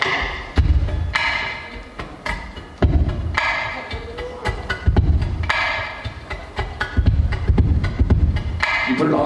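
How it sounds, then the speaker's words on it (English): Deep, thumping taps on a ukulele's hollow wooden body, played like a bass drum in a steady beat, with lighter clicks and taps mixed between the heavier hits. "the bass drum, which sounds like this."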